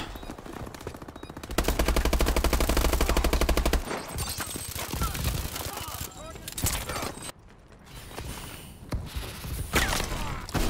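Rapid automatic gunfire rings out in a video game bomb-defusal shootout, a sustained loud burst followed by scattered shots and thuds, with a voice talking over parts of it.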